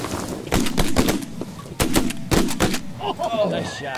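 Several sharp shotgun blasts ring out during a field duck hunt, loud and close in quick succession, with birds calling faintly in the background near the end.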